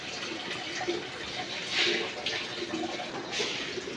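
Water pours steadily into an LG automatic washing machine that has a U12 error, a soft continuous gush with small splashy surges and no talking.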